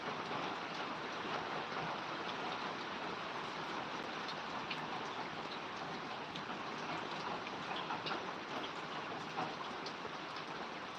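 Heavy monsoon rain pours down in Solapur, a dense, even roar of falling water that holds steady and loud for the whole stretch, with no voices.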